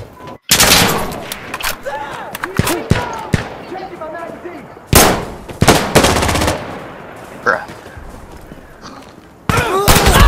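Bursts of rifle and machine-gun fire crack through an Insurgency Sandstorm firefight, loud close volleys and single shots repeating in uneven clusters, with voices talking beneath the shooting.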